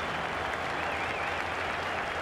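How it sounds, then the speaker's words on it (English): Cricket crowd applauding a batsman's boundary shot past cover and mid-off, a steady, dense wash of clapping from a large stadium crowd that holds at full strength throughout. "Acknowledging the ovation of the crowd."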